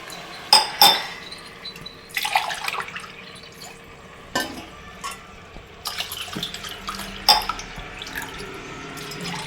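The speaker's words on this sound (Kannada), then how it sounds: "ಇವಾಗ ಇದಕ್ಕೆ ಅಳತೆಗೆ ಸರಿಯಾಗಿ ನೀರು ಹಾಕ್ತೀನಿ" Measured glasses of water are poured into a pot of rice for mint rice, with clinks of a steel tumbler against the vessel, splashing pours and drips in a quiet kitchen.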